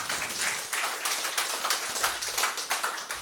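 Audience applause from a gathering at a cow-manure organic fertilizer training session: dense, steady clapping from many hands, fairly close and sustained throughout.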